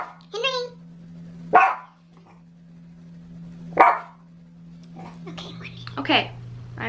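Dogs bark in a few separate sharp bursts, close and fairly loud, over a low steady hum with quiet sounds between barks.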